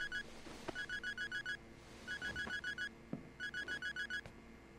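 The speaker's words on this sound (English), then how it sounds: "There's a phone ringing." A ringing phone in the open-world video game Sleeping Dogs sounds in three bursts of rapid electronic trill pulses, fairly clear against low game ambience, with a few soft thuds between rings.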